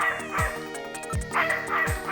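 A frightened dog named Alice in the video game Snatcher lets out three quick, sharp barks at a steady pace, close and loud over an electronic musical backdrop.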